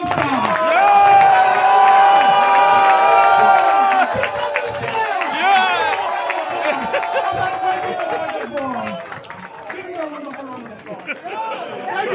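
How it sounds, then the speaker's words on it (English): A large crowd cheers and applauds loudly at an evening event welcoming the Prime Minister, a sustained dense roar of clapping and shouting with voices mixed in, easing slightly toward the end. "with a resounding round of applause, let's welcome the Prime Minister"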